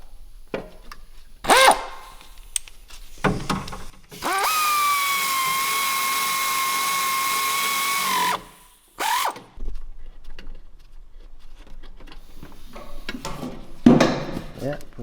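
A power tool drives an alternator bolt tight on a car, with one sustained, loud whirring run of about four seconds between short bursts of tool clatter and quieter stretches. Someone talks in the clip.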